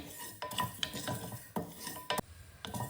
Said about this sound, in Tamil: இப்போ வெந்தயத்தை போட்டு வறுத்துக்கலாம்